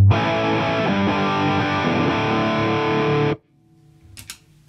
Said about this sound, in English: That's the BB preamp.